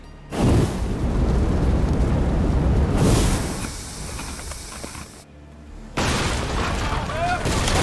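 Ship cannons in Assassin's Creed Odyssey roar in broad, hissing booms that fill the space, one long blast followed by a quieter stretch, a brief gap, then another heavy burst, with voices faintly underneath.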